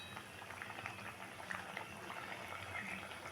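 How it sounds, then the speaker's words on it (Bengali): Rice boiling in a covered pot, a quiet continuous bubbling and simmering hiss with small irregular pops, steady and faint with no talk. "চালটাকে ফুটতে দেব"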